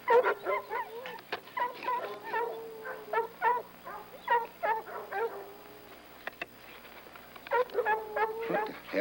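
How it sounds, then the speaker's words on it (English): Several dogs bark, yip and whimper excitedly outdoors, a busy overlapping chorus of yelps and whines that keeps going with only short pauses, fairly close and with no talk over them. "What the hell's ailing them dogs?"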